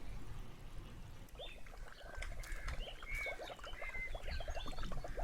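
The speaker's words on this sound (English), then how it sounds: "This seems like water should be going through it." Water gurgles and bubbles through pipes in the video game A Wolf in Autumn, with quiet, irregular glugging pops over a low murmur that grow busier midway through.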